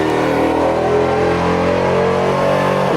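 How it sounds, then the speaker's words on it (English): A full carbon-fiber Mustang with a supercharged Whipple V8 revs hard on a dyno, a loud, steady engine roar with rising and falling pitch filling the whole stretch, close by and unbroken. "You can hear the dyno going."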